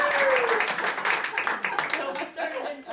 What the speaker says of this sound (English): Now's the time to applaud.